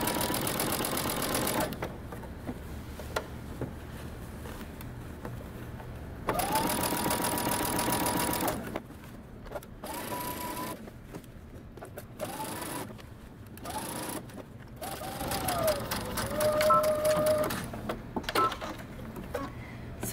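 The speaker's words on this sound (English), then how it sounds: "you're going to sew around using 5/8 of an inch seam allowance" A sewing machine runs a 5/8-inch seam around a coat sleeve, with backstitching at the start, in several close, steady bursts of stitching separated by brief pauses.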